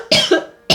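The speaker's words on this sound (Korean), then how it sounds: "갑자기 목이 가려워서 기침을 했습니다." A woman gives two sharp coughs, close and fairly loud, the first a double burst and the second starting just as the clip ends, with no talking.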